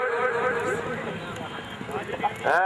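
Horse hooves gallop across the ground at a tent pegging event during a 2009 celebration in Kharian, a fast clip-clop rhythm running under a loud announcer calling out riders and horses over a busy outdoor crowd.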